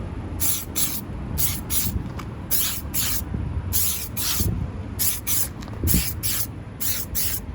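A spray paint can sprays in a series of short, loud hissing bursts with brief gaps between them, over a steady low background rumble.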